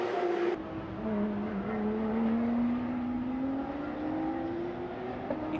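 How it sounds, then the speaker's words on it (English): Porsche Carrera Cup race cars at speed on the Shanghai circuit, a loud continuous engine drone with pitch climbing steadily as the cars accelerate, occasional squeal of tyres, no talk over it. "Beautiful cars, they're racing them."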